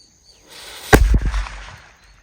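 A single Valangaiman bijili firecracker goes off with one sharp, loud crack followed by a few quick rattling echoes that fade within a second, outdoors with no talking.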